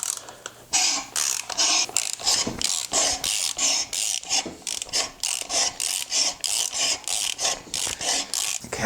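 A ratchet cutting tool chews through metal on an old, long-abandoned Dodge Monaco, a rapid, rhythmic series of rasping clicks and grinding strokes repeating steadily up close.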